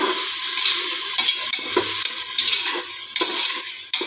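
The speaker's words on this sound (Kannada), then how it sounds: "ಟೊಮೆಟೊವನ್ನು ಹಾಕಿ ಸ್ವಲ್ಪ ಫ್ರೈ ಮಾಡಿಕೊಳ್ಳಿ" Tomatoes fry in a pan for homemade masala, giving a steady close sizzle with a few sharp stirring scrapes and clinks against the pan, and nobody speaks.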